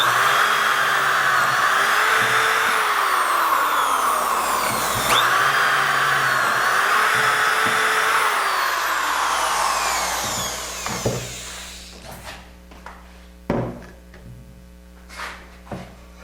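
A drill bores dowel holes in wood through a Dowelmax jig, giving a loud, continuous whirring whine with rising and falling pitch for about eleven seconds, then stopping and giving way to a few sharp knocks and clunks.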